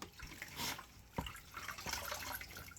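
Water drips and trickles off wet bedding material for a blue worm bin, a few soft separate drops and a light running splash, close by and faint, with no talking.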